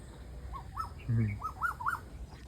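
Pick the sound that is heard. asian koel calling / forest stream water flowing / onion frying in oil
asian koel calling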